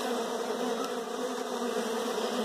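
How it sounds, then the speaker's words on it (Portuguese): Uruçu stingless bees buzz steadily and densely at their hive, a continuous close-up insect drone with no voices. "Pode ser as novas abelhas Uruçus."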